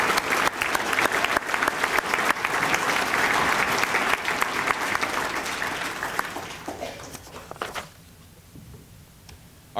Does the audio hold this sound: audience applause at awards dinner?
yes